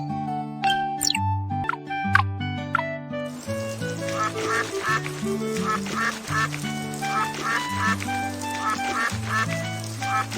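Cartoon duck quacking in a kids' animal rescue game, several nasal quacks coming in quick bursts over bouncy background music with tinkling chimes, the quacks clear and close throughout.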